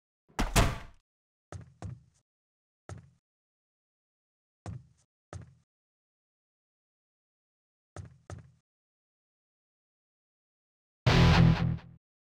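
Door in the PS2 video game The Shield, a series of separate dull knocks and thuds spaced irregularly in silence, framed by a longer rattling bang at the start and another at the end.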